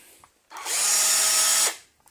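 A battery-powered drill driver, set up for a tiny tractor, whirs up and runs steadily at speed for about a second before winding down, loud and close with no talk over it.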